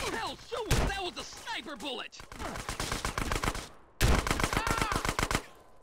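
Gunfire in the video game Grand Theft Auto comes in several rapid bursts of sharp, loud shots, with short gaps between them and a voice talking over parts of it.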